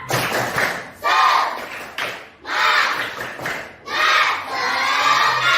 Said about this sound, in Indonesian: Iya, tepuk tangan untuk kita semua.